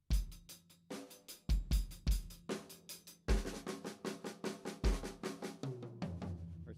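A drum kit plays a groove with sharp kick, snare and cymbal hits in a steady rhythm, followed by a fill, close and moderately loud.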